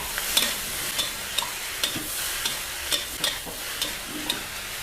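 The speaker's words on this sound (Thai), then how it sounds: "ใช้ไฟกลางๆ ค่อยๆคั่ว อย่าใช้ไฟแรงเด็ดขาดนะคะ เราต้องคั่วไปเรื่อยๆ" Shrimp mixture is dry-roasted over medium heat in a wok, a soft crackling fry under a series of crisp spatula scrapes that come roughly every half second, near and fairly loud.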